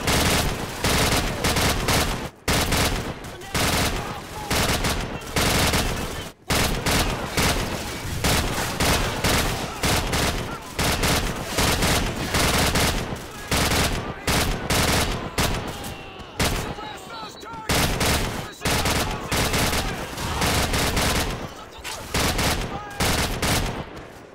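Sustained automatic gunfire and fusillades from the video game Call of Duty 4: Modern Warfare, loud and dense with rapid bursts continuing almost throughout, with brief pauses and a faint voice in places.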